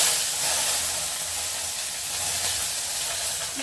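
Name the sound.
chillies added to hot oil sizzling in pan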